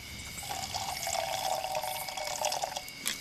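Water poured from a canteen into a cooking pot of bugs and crabs outdoors in the jungle, a steady close trickle and splash lasting a few seconds with no talk.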